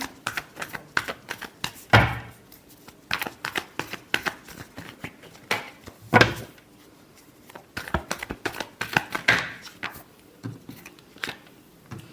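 Tarot cards being shuffled by hand, a long run of quick papery riffles and taps in close, irregular bursts with small pauses between them, and no talking.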